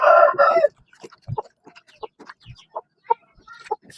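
A rooster crows loudly and close at the start, followed by a series of short, soft, scattered clucks from chickens on a farm.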